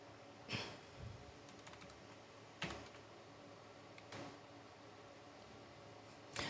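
Faint, sparse keystrokes on a computer keyboard sound as a few isolated clicks a second or so apart against a quiet room hiss, with no talking.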